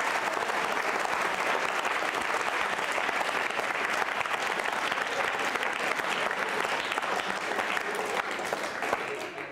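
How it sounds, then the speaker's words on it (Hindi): A school quiz show audience bursts into applause, loud continuous clapping from a crowd that holds steady for nearly ten seconds with no voices over it. "बजाइए तालियां इस बात के लिए।"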